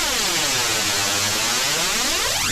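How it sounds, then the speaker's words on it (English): A flanger effect with low resonance sweeping over a dense noisy sound, a continuous whooshing comb-like swirl that stays steady and loud, with no voice. "And now we hear our flange"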